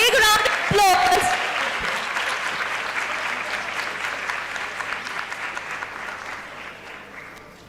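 Audience applause at a law college valedictory function, opening with a brief burst of amplified sound and a shout, then settling into broad, steady clapping that gradually fades.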